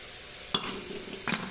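Ground coconut masala sizzling in a pan as a little hot water is added, with two short bursts of splashing hiss against a soft, steady background.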